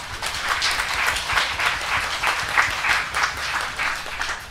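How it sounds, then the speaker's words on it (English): A live audience applauds to welcome a Buddhist monk onto the stage at a talk, steady dense clapping that holds at an even level throughout, with no voices over it. "please give a warm welcome to Ajahn with a big round of applause"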